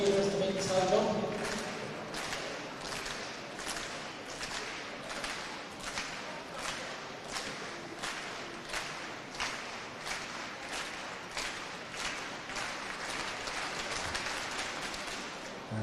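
At a national senior indoor athletics championship, the crowd claps in a steady, rhythmic beat for a high jumper. The sharp claps come at a regular pace and carry on under a commentator's voice.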